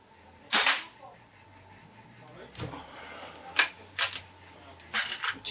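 Several shots fired from SFS rifles, sharp loud cracks spaced a second or so apart, the first the loudest, with quieter shots following in a short burst near the end.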